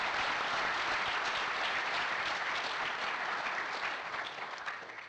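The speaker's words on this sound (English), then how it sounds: "I think we just need to give them all a round of applause" A room full of people at a BC election all-candidates forum in Kamloops claps steadily for the candidates, a full, even wash of applause that holds strong before tapering off at the end.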